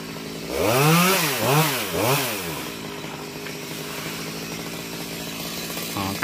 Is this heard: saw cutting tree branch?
yes